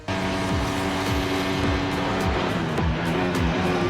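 Formula One race cars at speeds over 190 mph roar past continuously. Their loud, high-revving engines whine in overlapping layers, with repeated pitch-dropping sweeps as each car passes. No voices are heard.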